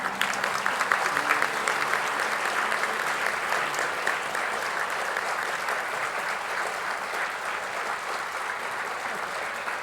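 Sustained audience applause at a school graduation ceremony, a dense steady wash of clapping hands filling the hall for the full stretch, loud and even with no voices standing out.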